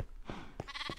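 A Minecraft sheep bleats in short, faint wavering calls, two or three quick bursts heard alone without talk.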